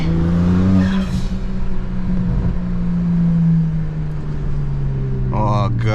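A car engine drones and revs with a deep exhaust rumble, pitch rising and falling, while people talk over it in short bursts.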